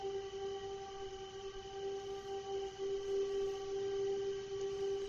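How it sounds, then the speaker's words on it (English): A steady, sustained air raid siren in Ukraine wails on without a break, holding a constant pitch with rich overtones against a faint background hum. "Air sirens is going off here, probably in Donetsk."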